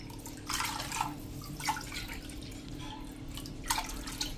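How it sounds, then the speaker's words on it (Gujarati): Water poured from a cup onto dal in a pot, faint splashing and trickling in three short bursts over a low steady background hum. "તો અત્યારે આપણે 3 કપ પાણી નાખશું"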